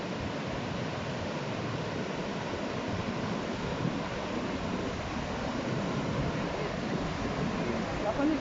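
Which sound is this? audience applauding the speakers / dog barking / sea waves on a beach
sea waves on a beach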